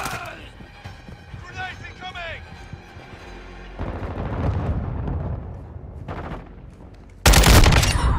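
Gunfire in a Modern Warfare 2 team deathmatch: scattered shots at first, then sustained heavy bursts, ending in a loud, close volley, with voices calling out over the firing.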